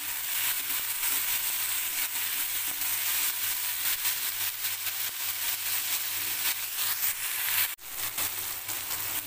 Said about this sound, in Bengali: দেখুন বন্ধুরা, ঢ্যাঁড়সটা ভাজা ভাজা হয়ে গেছে।